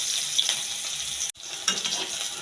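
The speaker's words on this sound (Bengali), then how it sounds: "এবার একটু ভেজে নিই" Okra fries in a pan with a bright, continuous hiss, briefly broken by a short dropout before the sizzle resumes with a light stirring scrape, no talking.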